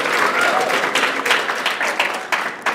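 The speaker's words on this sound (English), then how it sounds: "We're going to need a louder round of applause, guys" Audience at an HR conference applauding a prize winner, a dense, even round of clapping for a few seconds with brief louder peaks, a voice faintly audible beneath.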